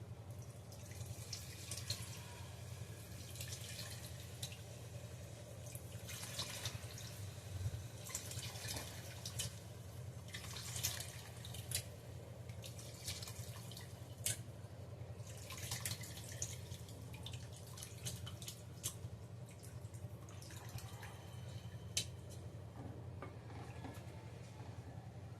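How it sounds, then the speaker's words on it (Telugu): Tamarind juice trickles into a pot of fish curry, a faint continuous pouring with small drips and splashes, quiet and unaccompanied by speech. "ఇప్పుడు చింతపండు రసం పోసుకుందాం."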